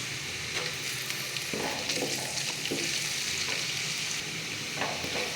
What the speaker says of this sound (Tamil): உருளைக்கிழங்கு குக் ஆகிற வரைக்கும் எண்ணெயில் 2 நிமிஷம் வதங்கினதும்